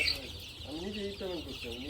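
Young chickens on a poultry farm cluck and chirp close by in a soft, continuous murmur of overlapping calls, with brief clucks rising over a constant flock background.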